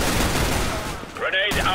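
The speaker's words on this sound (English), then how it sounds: "I'm throwing a flashbang." A flashbang grenade in the video game Counter-Strike during a match: a dense, loud burst of noise that gives way to a thin, wavering high ringing tone.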